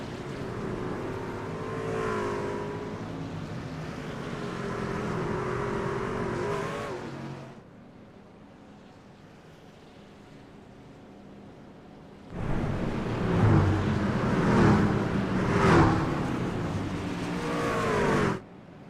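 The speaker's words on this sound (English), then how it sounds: "You see here go the trucks here rolling out of pit road. Get those tires warmed up here" Racing trucks in a video game rolling out of pit road, engines droning and revving in two long stretches split by a quieter gap, the second stretch louder and rougher.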